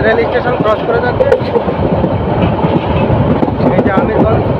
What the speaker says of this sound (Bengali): আমিরগঞ্জ রেল স্টেশন ক্রস করে যাচ্ছে।